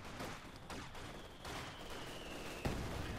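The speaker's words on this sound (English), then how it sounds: "As they're getting pummeled with not just hay mortar fire but machine gun fire." Mortar blasts and machine gun fire from a Company of Heroes 2 battle play as faint, muffled distant rumbling under steady noise, with scattered pops and one sharper thump near the end.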